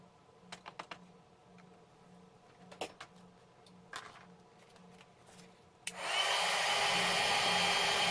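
An embossing heat tool blows a steady loud whoosh that starts abruptly after several seconds of light handling taps on a stamped card, continuing to the end.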